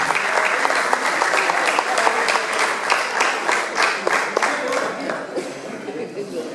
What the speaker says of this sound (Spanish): yo pediría un inmenso aplauso para la lucha de los estudiantes